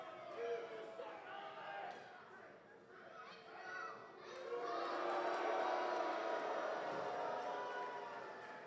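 A wrestling crowd in Poughkeepsie reacts to Matt Cardona during an ACW Aftershock match against Richard Holliday. A broad murmur of chatter swells into louder sustained crowd noise partway through.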